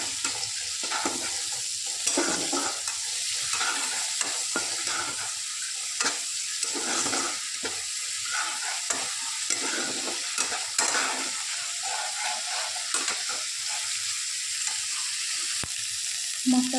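A spice paste with turmeric and salt fries in oil and is stirred steadily, with repeated spatula scrapes and knocks over a continuous sizzle, close and without talk for a long stretch.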